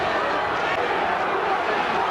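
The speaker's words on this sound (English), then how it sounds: "What you hear from the crowd are not boos. They're yelling for Cooney." Boxing crowd at the Larry Holmes vs Gerry Cooney heavyweight fight in the 9th round, a steady, dense roar of yelling for Cooney that fills the arena without a break.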